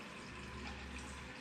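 Water poured into soaked black beans in an Instant Pot, a steady continuous pouring and splashing wash at moderate level, alone with no talk.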